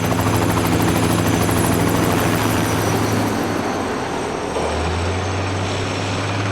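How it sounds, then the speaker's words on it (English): A helicopter carrying a heavy load such as steel girders or concrete buckets on a long line for cable car construction in Hong Kong, its rotor and engine drone loud and steady throughout, with the pitch shifting partway. "It's dangerous for the helicopters because they are carrying, number one, they are carrying a load."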